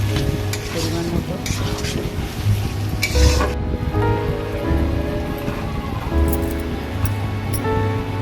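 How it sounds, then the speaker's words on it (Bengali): Chopped tomato hitting hot oil in a pan while cooking a meat curry, a steady loud sizzle with intermittent stirring scrapes and clatter close by. "টমেটো কুচিটা দিয়ে দেবো, দিয়ে তারপরে আবার কষিয়ে নেবো।"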